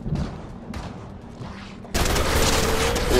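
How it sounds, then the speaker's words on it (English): Video game Harbinger SMG firing in a steady rapid stream of shots, with the rattle surging louder and harsher partway through as the burst continues. No speech over the gunfire. "Harbinger SMG."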